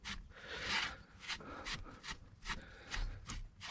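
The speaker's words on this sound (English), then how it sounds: "Yeah, gonna wipe it." A rag wipes freshly cleaned bolt threads on a Toyota Camry during rear wheel bearing work, giving a series of quiet rhythmic rubbing swishes, close and soft, with no one talking.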